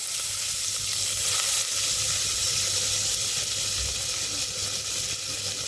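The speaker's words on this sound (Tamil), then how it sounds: "இப்போ வந்து வெங்காயத்தை மட்டும் வதக்கிட்டு இருக்கோம்" Onions sautéing in a pan for Ramadan nonbu kanji porridge give off a loud, steady hissing sizzle close up, unbroken throughout with faint stirring underneath.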